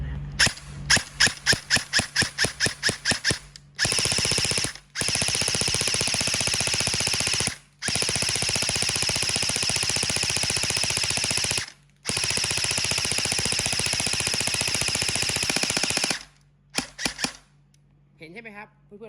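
A Double Bell M4 CQB airsoft rifle fires close by, first as a run of rapid separate shots, then in several long sustained full-auto bursts broken by short pauses, ending with a few scattered shots.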